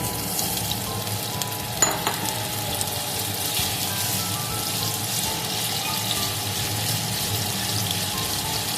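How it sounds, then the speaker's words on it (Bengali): Paneer frying in hot oil in a home kitchen, a steady close sizzle that runs without a break, with a brief clatter of utensils near the start and no talk. "তেলটা গরম হয়ে গেছে, এখন আমি পনিরগুলো সব ভেজে নেব।"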